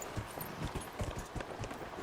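Horse hooves clip-clopping at a steady trotting rhythm in Dragon Age: Inquisition, moderately loud and close, with faint background ambience.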